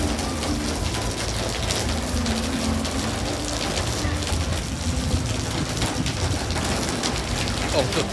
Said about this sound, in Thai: นี่คือสภาพของฝนที่ตกลงมา